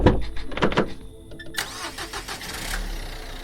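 A car engine cranks with a few starter bursts, catches, and then settles into a running hum as the car drives off along a road, heard alone without voices.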